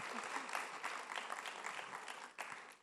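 Audience applause fills a large summit hall to welcome a playback singer on stage at the Ideas of India event, a steady dense wash of many hands clapping at moderate distance, fairly faint, with a brief swell near the end.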